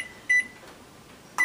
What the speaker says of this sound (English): just heating up my coffee here